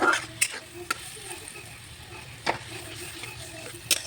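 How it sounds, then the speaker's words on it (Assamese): Faint frying in a pan, a soft steady sizzle of garam masala, meat masala and Kashmiri chilli with shrimp, with a few sharp clinks and taps scattered through, no voices. "ধুনীয়াকৈ গোটেইখিনি ভাজি ল'ম"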